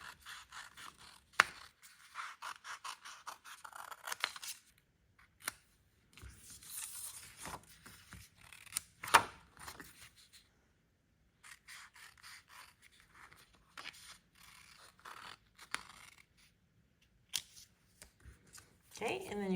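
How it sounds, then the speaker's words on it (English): Scissors cutting paper for a triple-pocket tag card: close, intermittent bursts of crisp snipping and rasping paper, separated by short quiet pauses. "I'm just going to use my scissors"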